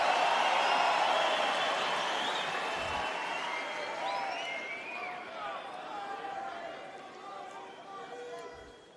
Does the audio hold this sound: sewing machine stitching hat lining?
no